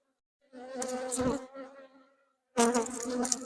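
Honeybees buzz close around a hive after a mated queen was introduced, a dense insect drone in two bursts with a short silent gap between them.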